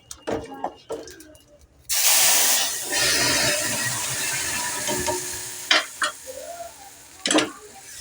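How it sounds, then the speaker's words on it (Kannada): After a few clinks, a loud burst of sizzling erupts as spices hit hot oil for a tempering, hissing steadily, with stirring clatters and a voice speaking over it. "ನೋಡಿರಲಿ ಒಗ್ಗರಣೆ"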